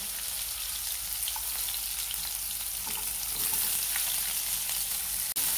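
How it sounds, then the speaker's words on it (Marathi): Onion fries in a pan for a mutter paneer gravy, making a soft, continuous sizzle at moderate distance with faint stirring ticks and a sharp click near the end; no one speaks. "आता आपला कांदा फ्राय होत आलेला आहे."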